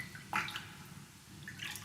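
A single clear drop of water splashes near the start, followed by faint trickling and a softer drip toward the end, all quiet against a steady low hum.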